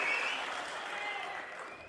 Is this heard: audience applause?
yes